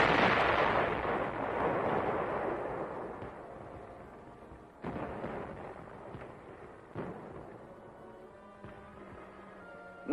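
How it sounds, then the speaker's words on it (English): Artillery guns firing on a winter Korean War front, with a heavy boom at the start that rumbles away, then two or three further booms at intervals, fairly loud with a long decaying roll and no talk. "there's plenty of ammunition here to keep this big gun firing"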